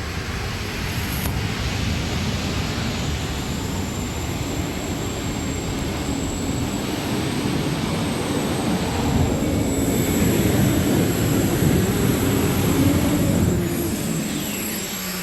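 Modified tractors of the Arfons pulling team roar at the NFMS Modified Finals tractor pull in Louisville, Kentucky, a loud sustained turbine-like engine howl that swells slightly toward the end.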